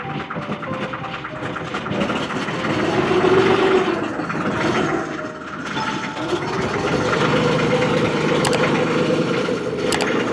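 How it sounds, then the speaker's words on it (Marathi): A motor boat on the Kerala backwaters: its engine turns over and settles into a rising, mechanical idle, then pitches up again, with faint voices nearby. "चला केली आहे त्यांनी स्टार्ट बोट"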